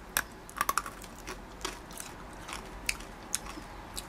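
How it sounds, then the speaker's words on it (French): A hard Japanese grape-flavored candy crunched between the teeth, producing sharp, close, crisp cracks in short irregular bursts over a quiet background. "quand vous le croquez, c'est dur mais ça se croque super facile"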